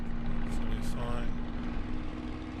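A Spitfire Mk IX engine in Microsoft Flight Simulator drones steadily with a constant low hum under the throttle, joined by brief higher whooshes near the start.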